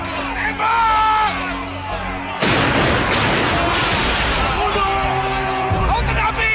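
Cannon blasts in a battle scene, a sudden loud boom cutting in midway and rolling on as a dense roar of battle noise, with harmonic shouting voices and music-like tones before and after.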